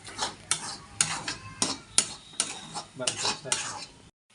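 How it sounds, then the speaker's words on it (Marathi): Egg bhurji with coriander is stirred in a pan, giving a regular run of sharp spatula scrapes and taps against the metal, roughly twice a second, over a light sizzle, close up. "कोथिंबीर टाकून घेतोय थोडीशी आणि हलवायचं आहे पूर्ण"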